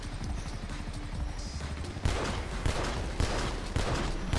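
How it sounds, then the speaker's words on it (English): Rapid bursts of revolver gunfire in a video game, loud sharp cracks repeating in an irregular volley over a busy, dense background of game noise. "I'm shooting it with my revolver."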